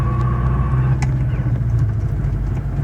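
A Subaru BRZ with a hydraulic throwout bearing runs under load as the driver shifts into fourth, giving a steady, close engine rumble with a faint high transmission whine over it that fades out about a third of the way through, with no talking.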